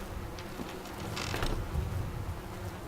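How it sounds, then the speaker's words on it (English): A door in the horror game White Night creaks open with a drawn-out grinding squeak, moderately loud over a low ambient hum. "That's the door."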